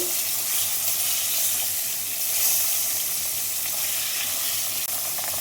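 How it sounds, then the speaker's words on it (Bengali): Pabda fish frying in hot oil in a pan, a steady loud sizzle and crackle running continuously without a break and no talking. "একটু লাল লাল করে মাছগুলো ভেজে নেব"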